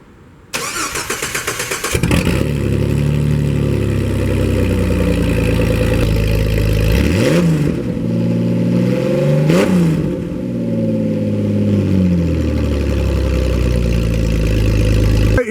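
A Jeep fitted with a new cat-back exhaust starts cold: a brief crank catches, then the engine settles into a loud, close, steady idle with a couple of short blips and swells along the way.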